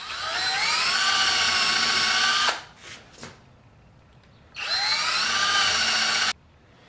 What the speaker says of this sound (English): So let's drill through these.